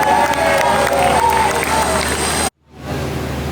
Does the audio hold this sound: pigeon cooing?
no